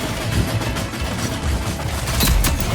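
Rapid bursts of video game gunfire crackle in a continuous, busy fusillade with a few heavier thumps near the end, dense and steady throughout.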